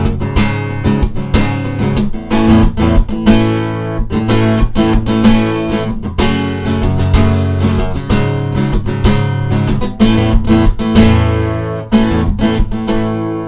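An acoustic guitar plays the bridge part of a song, with strummed chords and picked notes in a steady rhythm, close and clear for over thirteen seconds with no voice.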